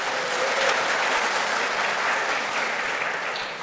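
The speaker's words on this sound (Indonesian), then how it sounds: "Kita tepuk tangan dulu, tidak apa-apa." A church congregation celebrating a fathers' fellowship gathering breaks into dense, sustained applause, loud and continuous, that tapers slightly at the end.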